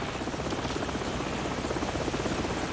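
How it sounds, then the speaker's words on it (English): Continuous thumping rotor chop of a helicopter, loud and steady throughout, in the video game Call of Duty 4. "The helicopter's back."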